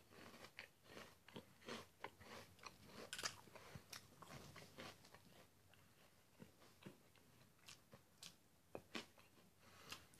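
Crunchy Wednesday Cookies and Crème flavoured snack being chewed close to the mic, a steady run of quiet, irregular crunches and bites over about ten seconds.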